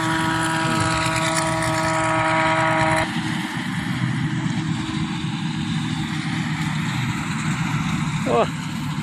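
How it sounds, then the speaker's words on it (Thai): A rice combine harvester runs in a field, its engine a steady loud drone with harmonic whine that shifts partway through as it turns around, close and continuous, with a brief voice near the end. "รถเกี่ยวคันนี้ก็ได้วนมาอีกแล้วพี่น้องเลย"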